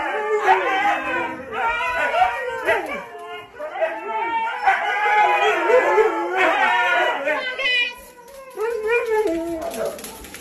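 Several huskies howl, yip and bark together indoors in a loud, continuous chorus of overlapping wavering cries with brief dips between bursts.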